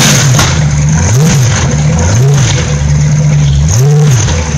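A warm 383 stroker small-block Chevy V8 runs on a homemade engine stand during break-in, idling loud and close just under 1,000 RPM with steady rumble and brief throttle rises.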